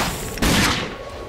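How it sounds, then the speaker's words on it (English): A single loud, close burst of gunfire from the Rage shooter, a sharp report that fades out quickly. "I'm just gonna go ahead and shoot the little hugger."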